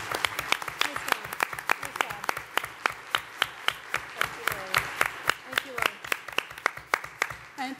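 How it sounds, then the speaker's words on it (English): At a housing summit, a sparse audience claps for the panelists with distinct, steady individual claps rather than a dense roar. The clapping is close and carries on for several seconds, with some voices talking underneath. "If we can give a round of applause and thank all of our panelists."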